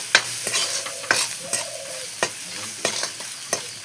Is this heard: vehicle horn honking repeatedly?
no